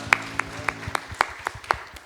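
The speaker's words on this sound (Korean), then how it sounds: "우리 주님께 감사와 영광의 박수 올려드리겠습니다." A church congregation at a Sunday worship service claps in thanks and praise, faint, sharp hand claps in an even, steady rhythm, about three per second.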